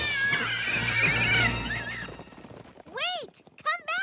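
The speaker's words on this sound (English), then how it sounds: "Those horses were supposed to pull our carriage." Cartoon horses neigh loudly, with clattering clip-clop hoofbeats as they gallop away, followed by a few more high, wavering whinnies.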